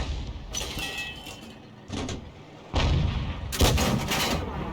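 A 105 leFH18B2 howitzer fires in a tank video game, with several loud, sharp booming blasts, each with a rumbling tail, spread unevenly over a few seconds against a steady background hum.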